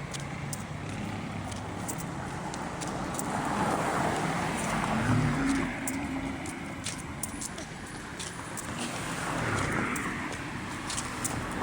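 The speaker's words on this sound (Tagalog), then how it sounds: "Dami sasakyan." Road traffic with many vehicles passing on a busy street, a steady broadband rumble of engines and tires that swells and fades as cars go by, heard while walking alongside, with no clear talk.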